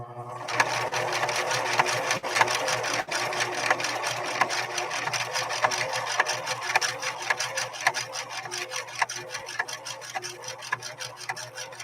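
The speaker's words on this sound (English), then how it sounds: "we're going to try this next stitch, which is another type of flexi stitch that Bill O'Rourke" A Singer 6215C sewing machine running steadily through a flexi stitch, its motor whirring continuously under a fast, even ticking of needle strokes, close and moderately loud throughout, without speech.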